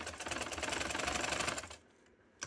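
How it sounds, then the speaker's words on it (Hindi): A sewing machine runs in one steady burst of rapid mechanical stitching while a neck design is sewn, then stops, leaving near silence with a brief click at the end. "अब इसके ऊपर सिलाई लगानी है। अब इसको मोड़ के दोबारा हम इधर ले आएंगे, सिलाई के ऊपर सिलाई आए।"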